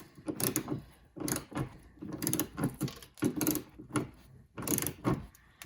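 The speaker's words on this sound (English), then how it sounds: "put our 11mm socket, put on the bolt on the inside here, and just start to loosen" An 11mm socket loosens a liftgate glass hinge bolt on a 2008-2012 Ford Escape, giving faint, repeated bursts of ratcheting clicks in an uneven rhythm, close by with no voices.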